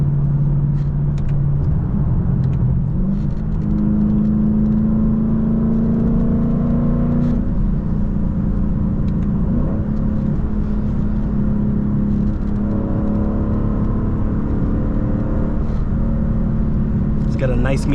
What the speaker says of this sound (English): Get a nice meaty downshift right here. Oh, little high pitch downshift in the third. Hit a little rev limiter now.